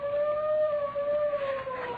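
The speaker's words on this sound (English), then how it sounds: "There go the fire engines again." Fire engine sirens wail with a steady, sustained tone that bends slightly in pitch, moderately loud and heard alone without speech.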